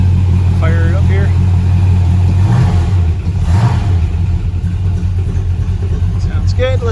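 A 1968 Dodge Dart's 360 V8 engine idles with a deep, steady rumble while someone talks over it.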